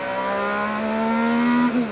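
Onboard an IndyCar race car accelerating: a loud, close engine note climbs steadily in pitch, then briefly dips and recovers near the end, with no talk.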